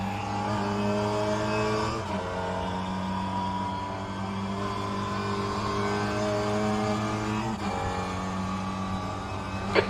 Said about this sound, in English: That was a hell of a handbrake turn.